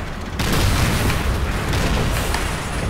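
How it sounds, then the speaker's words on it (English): Tank cannon fire in the Call of Duty 3 level The Black Baron, a loud booming blast that starts abruptly and then rumbles on as a sustained, heavy low roar. "there's a tank somewhere shooting me"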